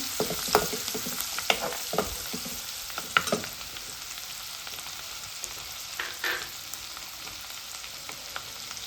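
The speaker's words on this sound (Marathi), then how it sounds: "लसण छान कुरकुरीत होईपर्यंत परतून घ्यायचं आहे" Garlic fries in oil in a pan until crisp, a steady sizzle with occasional scraping stirs close by, fairly quiet, with no talking.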